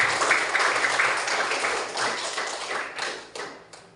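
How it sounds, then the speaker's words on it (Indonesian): A classroom of pupils claps for a classmate, a steady close patter of many hands that stays dense for several seconds before thinning into a few last claps. "tepuk tangan untuk Mas Nana"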